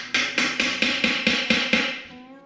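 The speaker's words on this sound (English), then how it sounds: "Now the time we gotta try to crack open this thing. Use an old flat blade screwdriver." An old flat blade screwdriver is hammered against a sealed Mopar rear suspension part to pry it open, eight sharp metallic strikes in a quick, even rhythm, each with a short ringing decay.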